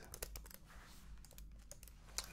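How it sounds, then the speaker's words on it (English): A Microsoft Surface Pro keyboard cover being handled, giving faint, close clicks and light taps scattered across the moment, quiet and intimate. "The keyboard snaps to the unit."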